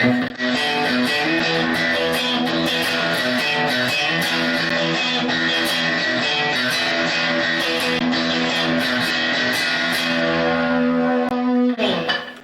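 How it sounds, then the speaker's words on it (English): Loud, fuzzy distorted electric guitar ringing out in sustained chords, dense and continuous, with a brief drop near the end. "we threw on what we call distortion, and that gives it that fuzzy sound"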